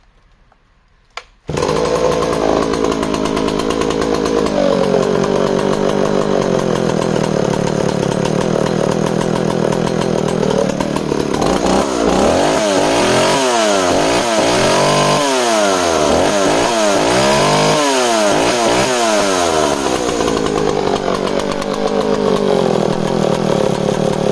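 A Dolmar West German chainsaw roars to life after a brief silence and keeps running loud and close, its two-stroke engine rising and falling through repeated revs between steady idle.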